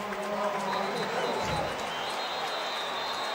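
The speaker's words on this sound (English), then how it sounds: "And the crowd cheering." A stadium crowd roars throughout an NFL game between the Green Bay Packers and the New England Patriots in 2002. The dense, steady cheering swells slightly, with an announcer talking over it.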